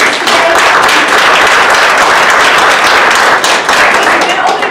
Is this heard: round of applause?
yes